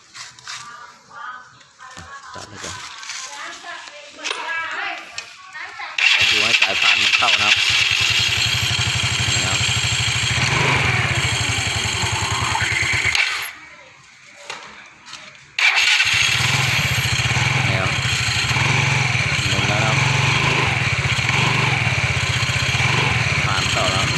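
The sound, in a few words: Yamaha Fino scooter engine being started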